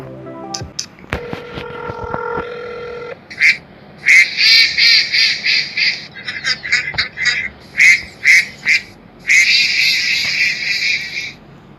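After a phone dials a number tied to a 666 billboard Easter egg in a video game, a loud recorded duck quacks through the line in repeated bursts and short runs, with brief pauses between them.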